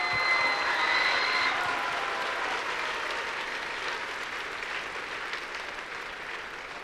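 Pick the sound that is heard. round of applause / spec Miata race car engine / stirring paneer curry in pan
round of applause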